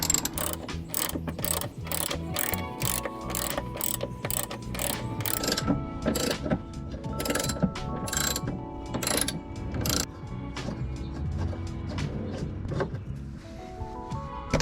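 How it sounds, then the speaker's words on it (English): A ratchet loosens bolts on the frame of a Chevy Astro/GMC Safari AWD camper van, with fast, regular clicking strokes up close that slow and thin out midway, then pick up again, with no voices. "So now we're taking out the bolts on the other side."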